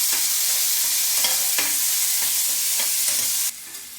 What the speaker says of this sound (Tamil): ஒரு பெரிய பழுத்த தக்காளி எடுத்து வச்சுருக்கேன் அதையும் நல்லா போட்டு கொலைய வதக்கிக்கோங்க